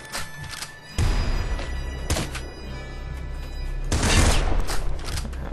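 Guns fire in Nuclear Throne in loud bursts, with sharp blasts and thumps landing in irregular clusters over a low, constant background drone.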